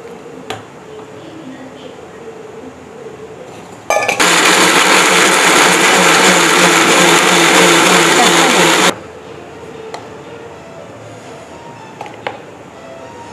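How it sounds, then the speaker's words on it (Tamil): Mixer grinder blends pineapple in a jar to a juice-like consistency, a loud steady whirring burst of about five seconds that starts and stops abruptly between quieter stretches. "மிக்சி ஜாரில் போய்ட்டு அரைச்சி ஜூஸ் கன்சிஸ்டன்சில நம்ம எடுத்துகிட்டு வர போகிறோம்"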